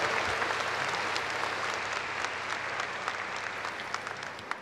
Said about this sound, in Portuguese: uma salva de palmas da nossa comunidade